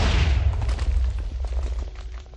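A TNT cannon fires in Minecraft, a broad rumbling blast with heavy low boom that decays over about two seconds, followed by faint scattered crackles of debris.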